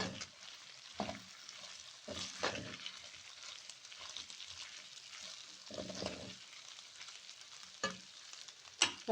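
Chilli chicken is tossed and mixed in a pan, giving soft intermittent sizzling and scraping stirs at a low level, fairly close, with no talking.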